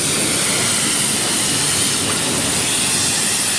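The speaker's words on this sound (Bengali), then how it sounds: "একটা লোকোমোটিভ যাচ্ছে, এদিকে একটা ট্রেন দাঁড়িয়ে রয়েছে" A locomotive passes through Howrah station, a steady, loud rail rumble with broad hiss that holds evenly for a few seconds without any voices.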